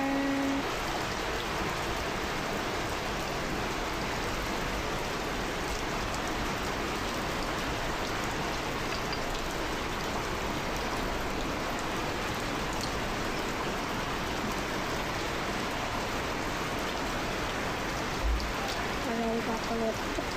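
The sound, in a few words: rain falling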